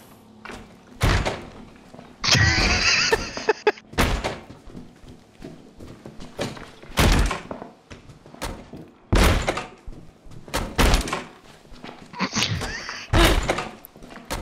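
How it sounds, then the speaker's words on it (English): In The Outlast Trials video game, a door is repeatedly slammed and smashed, giving heavy thuds and bangs at irregular intervals alongside a few louder crashing bursts, with no one speaking. "Fucking up that door"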